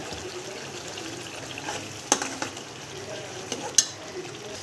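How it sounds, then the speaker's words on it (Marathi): Onion and tomato paste frying in oil with coarsely crushed garlic, ginger and cumin, a soft steady sizzle close by with a couple of sharp clinks of a spoon against the pan. "कांद्या टोमॅटोची पेस्ट टाकलेली आहे ही आता आपण तेल सुटेपर्यंत फ्राय करायची"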